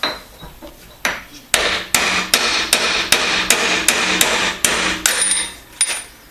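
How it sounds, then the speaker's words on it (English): Hammer striking steel to knock a broach out of a drilled metal workpiece: about a dozen loud, sharp metallic blows in a fairly steady rhythm, close up, with no talking. "back it off, then knock the broach out"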